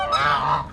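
Geese honk loudly and close by while being offered watermelon, a steady overlapping honking held for under a second with no talk.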